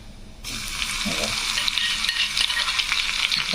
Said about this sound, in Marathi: आता याच्यामध्ये ना लसूण टाकून घ्यायचं आपल्याला